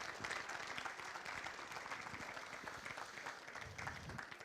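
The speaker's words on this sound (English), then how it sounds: "let's have one more huge round of applause for our outstanding volunteers" An audience at a community awards ceremony applauds its volunteers with a dense, steady wash of clapping that keeps going at even strength the whole time, with no voices standing out above it.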